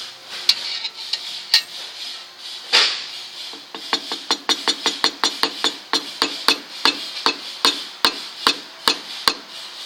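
Loosening a tight, partly cross-threaded knife screw on a woodworking jointer gives a run of sharp metallic clicks, sparse at first and then a quick steady ticking, close and clear with no talk.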